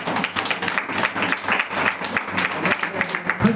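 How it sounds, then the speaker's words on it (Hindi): Church congregation giving a round of hearty applause to first-time visitors, many hands clapping in a lively, uneven rhythm at close range throughout, with a faint voice briefly audible beneath. "आइए, इनके लिए एक जबरदस्त ताली हो जाए।"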